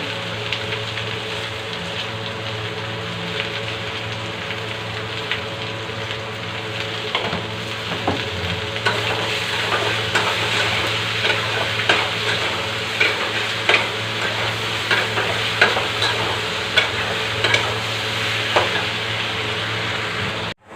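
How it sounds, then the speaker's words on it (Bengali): Vegetables with turmeric and salt fry in a pan, giving a continuous dense sizzle with intermittent scraping and clacking stirs, close and fairly loud for the whole stretch. "ভালো করে ভেজে নিয়েছি"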